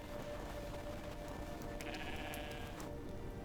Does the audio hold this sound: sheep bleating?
yes